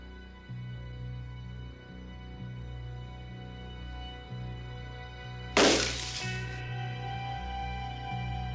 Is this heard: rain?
no